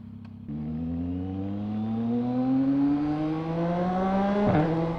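A Yamaha MT09SP triple-cylinder motorcycle accelerates hard, its engine note climbing steadily, then a sharp exhaust pop cracks at the upshift before the revs drop and climb again.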